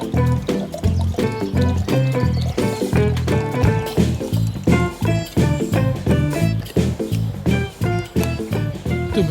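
Cold drinking water is poured and sloshes in quick, uneven bursts close by, layered over a busy background of rhythmic music or other sounds that runs the whole time.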